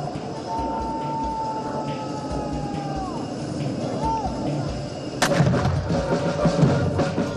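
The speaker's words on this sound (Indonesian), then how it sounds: "21 kali dentuman kehormatan" A single loud, sharp boom of a ceremonial cannon salute from a distance rings out over steady crowd murmur and outdoor ambience at an airbase, echoing briefly before the background noise resumes.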